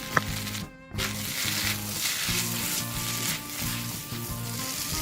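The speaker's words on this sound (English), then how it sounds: "We'll fry these noodles for about 3 minutes" Garlic butter noodles with sauce and brown sugar fry in a pan, a steady close sizzle broken by scraping stirs and a brief clatter, with a low rhythmic hum running beneath.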